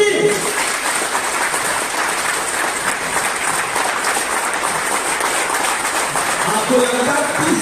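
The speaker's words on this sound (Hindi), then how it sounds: "आपको लगातार 30 मिनट तक ताली बजाना है" A large audience claps continuously in a long, steady, even roar of applause, loud and unbroken from start to finish.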